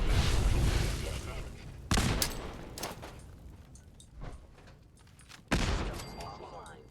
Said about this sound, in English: What if we were just to throw a few grenades?